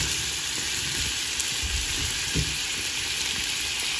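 Potatoes sizzle and crackle steadily in a hot pan, close and loud, with occasional sharper pops and no voices.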